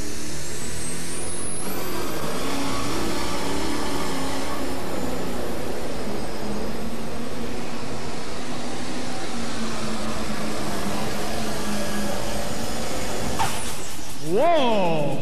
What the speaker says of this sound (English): Massey Ferguson's got a different kind of sound, folks, I'll tell you.